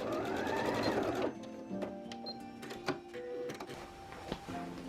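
A sewing machine stitches around a blouse armhole in a close, loud whirring burst, then stops, followed by quieter intermittent clicks and short stitching runs.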